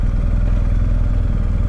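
A Harley-type motorcycle rumbles past close by with a steady, deep, throbbing engine note that holds loud and even throughout, with no voices over it.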